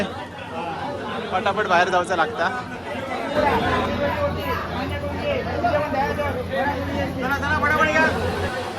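Crowds at a Shri Sateri Devi village temple fair in Bilvas chatter in a dense, steady hubbub, with nearby voices talking over the babble throughout.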